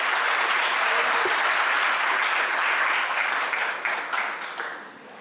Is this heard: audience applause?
yes